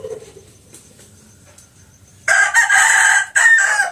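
A rooster crows loudly nearby in two strong bursts after a quiet stretch of faint background noise.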